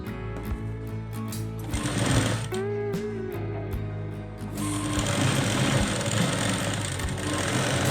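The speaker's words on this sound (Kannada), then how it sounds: "ಈ ಥರ ಹೊಲಿಗೆ ಹಾಕಿದ್ಮೇಲೆ ಇದ್ರ ಮೇಲ್ಗಡೆ ಮತ್ತು ನಾರ್ಮಲಾಗಿ ಕಿನಾರಿ ಸ್ಟಿಚ್ ಹಾಕಿ" Sewing machine stitching a blouse, a rapid mechanical whirring that runs in short bursts at first and then settles into a continuous run, close and clear with no talking.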